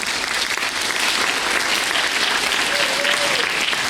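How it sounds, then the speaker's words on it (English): Dense, steady applause from a school concert audience at a spring jazz and concert band performance, a continuous wash of many hands clapping at even loudness throughout. "Give a round of applause to Max."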